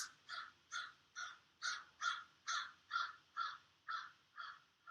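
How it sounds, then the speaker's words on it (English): Crows caw outdoors in a steady rhythmic series of about a dozen harsh calls, evenly spaced and moderately distant, with no talk over them. "As I say that, the birds go off."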